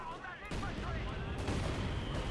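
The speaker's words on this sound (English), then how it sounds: "Mortar firing down death here upon Duffmann's positions." Mortar fire in a Company of Heroes 2 match: a sudden heavy boom that settles into a dense, sustained battle rumble, with muffled gunfire layered in and a voice talking over it.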